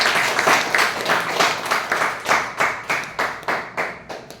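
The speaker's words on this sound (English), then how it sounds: "give a big round of applause." A Toastmasters club audience gives a round of applause, a small group clapping in a strong pulsing rhythm, loud and close, steady for several seconds before thinning out.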